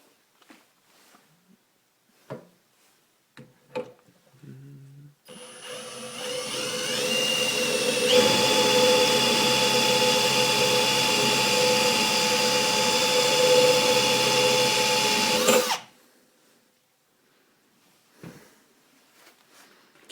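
A drill spins a car alternator on a bench test, winding up to a loud steady whine that holds for about ten seconds before cutting off, with quiet clicks and handling noises before and after.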